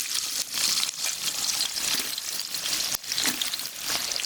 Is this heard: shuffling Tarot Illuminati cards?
no